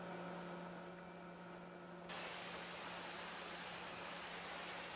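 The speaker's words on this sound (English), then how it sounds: "okay, let's get this bad boy washed off." In Farming Simulator 2015 on Xbox One, a steady hiss of washing spray suddenly switches on partway through and keeps going over a constant low mechanical hum, with no talking.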